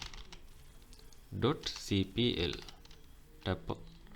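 A few quick bursts of close computer keyboard keystrokes in short clusters, with a voice speaking over and between them.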